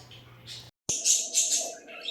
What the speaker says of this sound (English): My birds are going crazy.